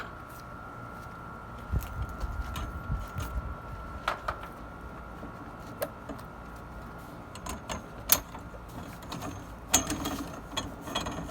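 A truck camper awning unrolls as its mechanism turns, with faint steady whirring broken by scattered clicks and small ratcheting knocks nearby.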